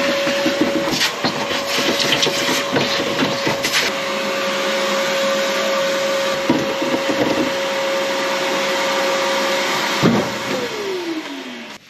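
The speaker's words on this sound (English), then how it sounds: "I'm gonna vacuum that real quick" A loud vacuum cleaner roars continuously inside a Ford Econoline camper van, with a steady whine, occasional clunks and rattles as it moves, then the motor begins winding down.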